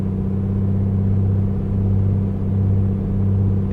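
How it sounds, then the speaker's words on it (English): A light aircraft's piston engine runs up to 2000 RPM on the ground before a glacier flight from Gustavus, giving a loud, steady droning hum with a strong low pulse and no talk. "Okay, so let's do a run-up. Let's go to 2000 RPM and observe."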